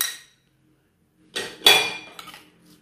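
A utensil clinks against a cooking pot while garlic is stirred in olive oil for a Moroccan fish tagine with onion and raisins, giving a few short metallic scrapes and knocks after a brief pause.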